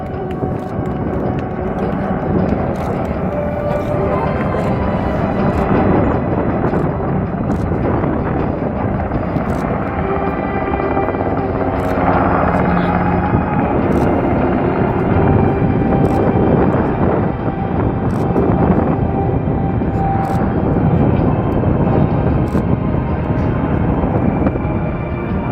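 Combat search and rescue demo aircraft landing and taxiing at an air show, a loud continuous engine roar that holds steady throughout, nearby and unbroken.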